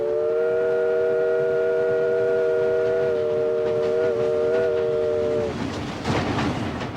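A Civil War-era train sounds a long, steady, chord-like whistle for several seconds over a rumbling rolling background, then the whistle cuts off and clattering wheels and carriage noise take over, with no voices.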